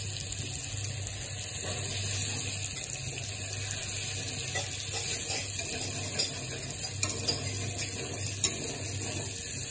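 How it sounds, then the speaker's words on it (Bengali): Chicken curry stirred in a frying pan, with a steady close sizzle and soft scraping from the stirring that continue throughout and no voices. "চিকেনটাকে ভালো করে নাড়াচাড়া করে মিক্স করতে হবে এখানে।"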